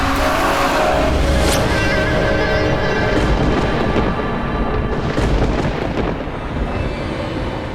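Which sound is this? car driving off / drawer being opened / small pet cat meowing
car driving off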